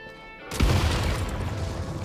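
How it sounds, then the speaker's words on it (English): A video-game detonation of explosive barrels set off by gunfire: a single sudden, heavy boom that erupts after a quiet moment and trails off in a long rumbling wash. "Shoot the explosives to detonate them"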